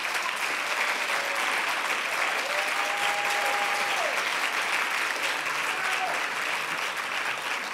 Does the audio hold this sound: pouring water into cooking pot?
no